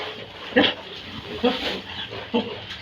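Pigs grunting in three short, separate bursts spaced about a second apart, close by, over low background noise.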